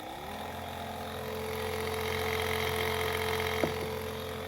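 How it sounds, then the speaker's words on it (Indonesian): A small electric pest-sprayer pump motor hums steadily with a constant tonal whine, fairly quiet and continuous, with a brief click near the end. "ada suara motor gerak,"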